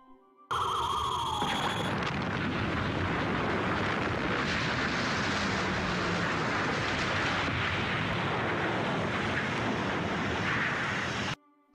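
A large special-effect explosion of the Zygon ship from the 1975 Doctor Who serial, a sudden roaring rumble that swells and holds for several seconds before cutting off, loud and alone.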